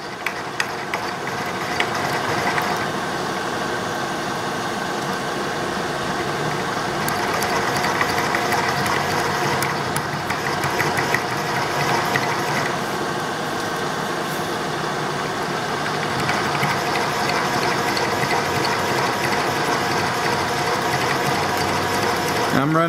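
A counterbore held directly in a milling machine collet cuts a bearing housing for an etching press at slow speed, giving a steady, continuous mechanical whir and chatter close by for the whole stretch, with no pauses.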